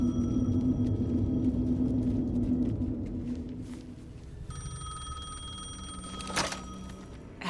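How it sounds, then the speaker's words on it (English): A payphone ringing in the horror game Alan Wake 2: a loud electronic bell ring over a low droning ambience, fading, then another sharp ring burst near the end. "The payphone was ringing."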